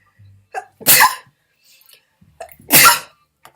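Two loud, close sneezes, each preceded by a short sharp inhale, about two seconds apart with quiet between them.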